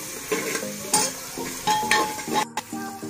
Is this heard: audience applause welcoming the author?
no